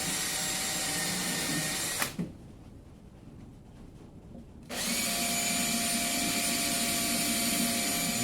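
A power drill drives a screw into fresh timber of a wooden bee hive box, with a loud steady whir that stops abruptly for a couple of seconds and then resumes at full level.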